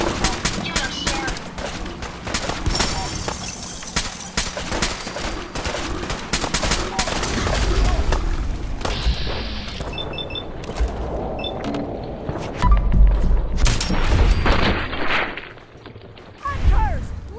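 A drawn-out firefight in Fallout 4's Far Harbor mixes rapid automatic bursts with scattered single shots, mechanical clicks and whooshes, loud and close amid shouting voices.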